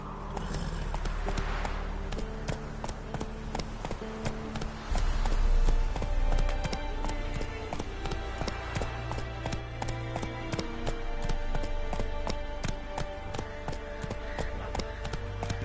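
Roach the horse galloping in The Witcher 3, steady rhythmic hoofbeats clip-clopping close and clear over ambient game music, with no talking.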